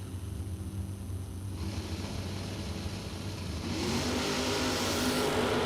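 Drag racing cars roar at a SuperBucks Showdown event, a loud steady engine drone that swells into a harder, rising rev near the end as cars leave the starting line, with no talking.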